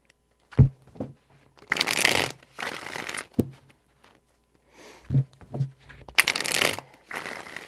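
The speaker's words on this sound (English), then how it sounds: "Four shuffles." Tarot cards riffled and shuffled by hand in several bursts, crisp papery flutters with brief taps and pauses between, close and fairly loud with no talking.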